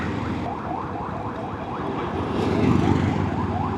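An ambulance siren wails on a road, a rapid rising-and-falling electronic sweep repeating steadily over traffic rumble and growing a little louder as it nears.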